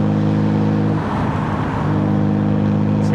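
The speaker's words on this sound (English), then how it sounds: "Just hearing this engine." A BMW 125i with an N52 inline engine drives along, a smooth, steady hum from inside the cabin with a slight dip and recovery in pitch midway, no voices.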